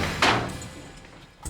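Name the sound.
door being broken down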